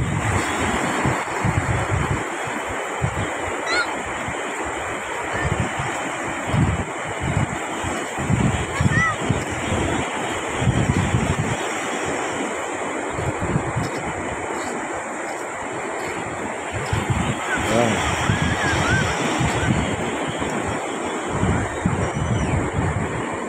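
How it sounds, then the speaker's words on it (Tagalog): Sea waves wash on a beach in a continuous rolling surf, with gusts of wind buffeting the microphone and a voice heard intermittently over the roar. "Ngayon lang talaga ako nakapunta sa tabing dagat."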